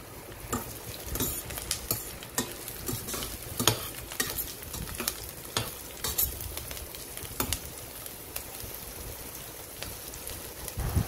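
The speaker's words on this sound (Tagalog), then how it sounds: "Igisa na natin ang sibuyas" Onion being sautéed in a pan for pork bulalo-style soup, with steady sizzling and frying crackle, frequent stirring clinks and scrapes of a utensil against the pan, close and continuous, no talking.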